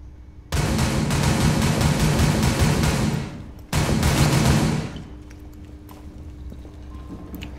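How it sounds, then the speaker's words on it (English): Gunfire in Rainbow Six Siege shooting up through the floor: two dense bursts of rapid automatic shots, a long one of about three seconds and then a shorter one, loud and close, followed by faint scattered noises. "He was shooting up through the ground."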